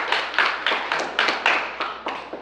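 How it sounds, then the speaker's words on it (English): Sparse clapping from a small audience at a middle school poetry slam, with a handful of distinct, separated hand claps in an uneven rhythm and no talking. "Let's give her a round of applause."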